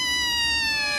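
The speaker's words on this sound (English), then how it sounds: "Hello, I'm your kitty, feed me." A single high, drawn-out electronic meow from a cartoon cat in a slime video game, loud and close with a tonal, synthetic quality, alone with no talk.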